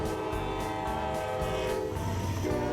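Model railroad diesel train on a layout, with a sustained chord-like horn blast over rumbling running noise, close and fairly loud for a few seconds.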